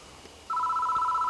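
A telephone rings in the horror game Spirit Hunter: Death Mark, a steady electronic two-tone ring that starts abruptly and holds loud and continuous, with no voices over it.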